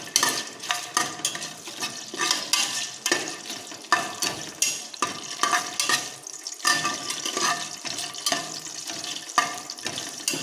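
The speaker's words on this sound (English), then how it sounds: "Now saute for 1 or 2 minutes." Whole spices, cardamom among them, are sautéed in a pan for vegetable biryani, with repeated scraping stirs and a light sizzle in an irregular rhythm, heard up close and with no voices.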